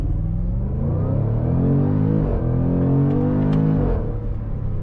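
A powerful car engine, heard from inside with the sunroof closed, roars loudly and continuously as it accelerates, its deep drone rising in pitch through gear changes over about five seconds.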